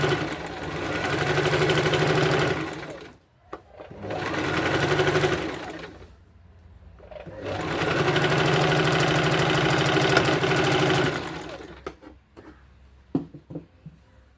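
A sewing machine stitches two chudithar pant pieces together in three long steady runs of motor whirring separated by short pauses, with a few small clicks at the end.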